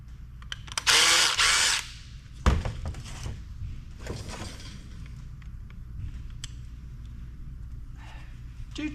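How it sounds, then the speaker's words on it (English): A power driver whirs loudly for about a second while loosening screws on a scrapped e-waste device, followed by clunks and handling noises at a quieter level. "Get these screws loosened up."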